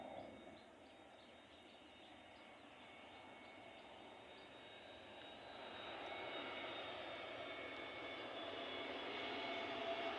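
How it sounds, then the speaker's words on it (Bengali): A passenger airplane passes overhead near a border before landing at a nearby airport, its faint, distant engine roar gradually swelling louder over ten seconds. "যাত্রীবাহী বিমান, এখনো আমাদের সীমান্তের উপর দিয়ে যাচ্ছে"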